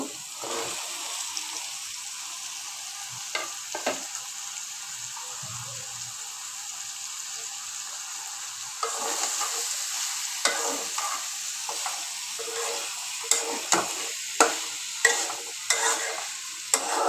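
Vegetables go into a dried fish curry and are sautéed and stirred in the pan: a continuous sizzle with repeated spoon scrapes, then sharper metallic clinks toward the end. No talking.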